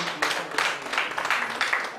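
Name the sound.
audience applause for the speaker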